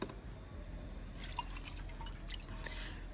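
Water poured into a cooking pot set over a low fire in a village kitchen, heard as a steady trickling, dripping pour that grows busier partway through, close and fairly quiet with no talk.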